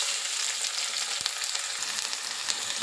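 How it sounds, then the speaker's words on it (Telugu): Chopped onions frying in hot oil as the base for a chicken and broad bean curry, a dense, even hiss of sizzling that stays loud and continuous throughout. "ఇప్పుడు కట్ చేసి పెట్టుకున్న ఉల్లిపాయ ముక్కలు వేసుకుందాం."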